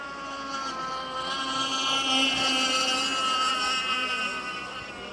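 A racing offshore powerboat's engine drones loudly and steadily as it crosses the finish line, the tone rising slightly and swelling closer before easing away, with no talk over it.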